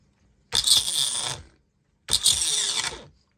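Small electric motor powered through jumper cables from a CXT battery whirs in two short bursts of about a second each, separated by silence, close and fairly loud.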